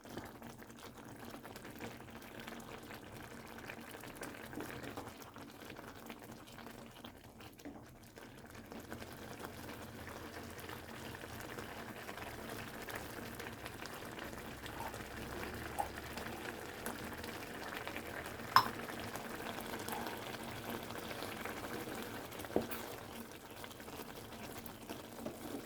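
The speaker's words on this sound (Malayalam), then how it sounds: "2 ദിവസമൊക്കെ വെള്ളം വെച്ച് നന്നായി തിളപ്പിച്ച് കുടിക്കാം" Drinking water boils in a pot at home, a soft, continuous low bubbling and simmer that runs steadily throughout with a few faint clicks and no talking.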